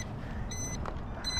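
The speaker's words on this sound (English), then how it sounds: "that alarm is probably telling me that the battery is dead" Low-battery alarm on a WLtoys WL915-A brushless RC speedboat gives two short electronic beeps, separated by a gap, over a steady background hum.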